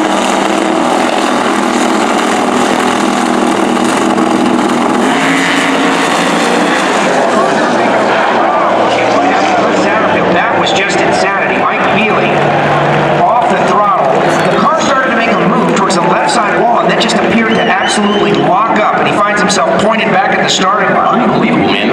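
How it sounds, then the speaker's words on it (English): Twin-turbo Pro Mod drag car at the starting line: a loud, sustained engine roar and tyre noise carrying steadily through the whole stretch, with voices talking over it. "The rear wheel's completely locked up on that thing. It spun it all the way around."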